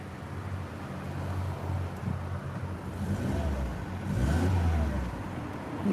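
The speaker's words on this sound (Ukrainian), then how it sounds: "Двигун робить прекрасно." A 2001 Mercedes-Benz C-Class 2.0 petrol engine with 163,000 km runs steadily close by with a low rumble, swelling briefly as it revs near the end, over some wind noise.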